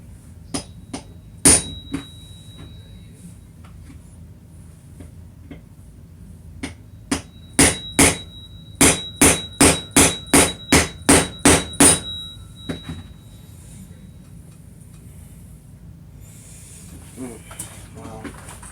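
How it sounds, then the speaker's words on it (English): A hammer strikes hard parts during a complete rebuild of a TRX 2.5 engine, about twenty sharp metallic blows: a few scattered hits, then a rapid steady run of evenly spaced strikes before quieting. "try a bigger hammer"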